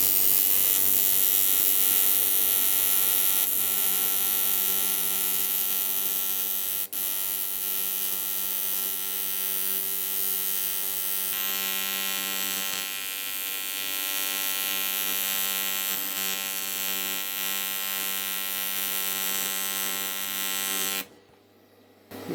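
An aluminium alloy sump being welded, a loud continuous electrical buzz with a steady hum that runs unbroken for about twenty seconds, then drops off sharply near the end.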